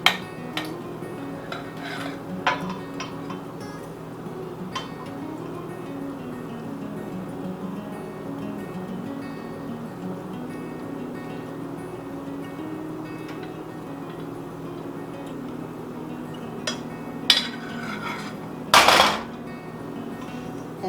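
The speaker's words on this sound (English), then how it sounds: "And just stir it all together." Spoon clinking and scraping against a bowl while dressing is stirred into Amish ham salad, soft steady mixing with scattered light clinks and a louder clatter near the end.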